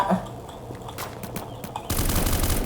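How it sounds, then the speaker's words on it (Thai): Sniper and other gunfire in the Roblox shooter Black Hawk Rescue Mission 5: a few sharp cracks early on, then a dense, loud burst of rapid shots near the end, with no talk over it. "โอ้ยสไนเปอร์ก็ยิงแม่นเหลือเกิน"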